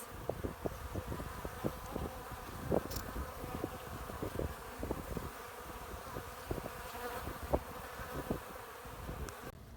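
A dense, steady buzzing of many honeybees at their hive, with sharp individual wingbeat bursts popping out close by, continuous throughout with no voices.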